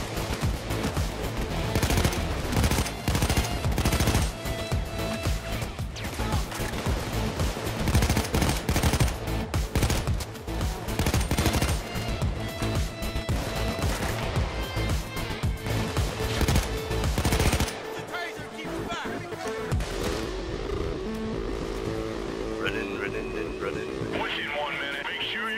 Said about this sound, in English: Okay, Dallas, eat every single one of my bullets.